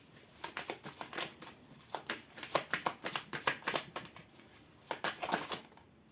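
Oracle cards shuffled by hand, a soft close riffling of quick papery flicks in uneven bursts with brief pauses, quiet and alone.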